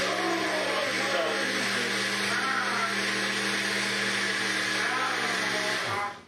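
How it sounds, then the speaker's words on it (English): A blender liquefies food in a steady, close, loud whir that runs unbroken for several seconds before cutting off abruptly at the end. "He goes crazy when the blender goes on."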